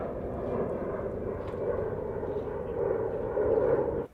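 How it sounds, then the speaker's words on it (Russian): An airplane taking off near a seaside marina in Montenegro, a steady, broad engine roar held at a distance that swells slightly toward the end before cutting off abruptly. "Где самолет взлетает."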